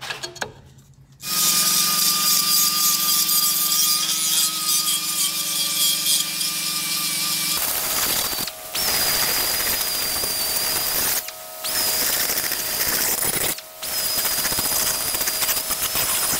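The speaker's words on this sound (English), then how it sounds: "We ended up grinding the backside of those bolts off." Power grinder cutting the backside of bolts off a brake booster, a loud sustained abrasive whine that runs almost nonstop with a few brief pauses.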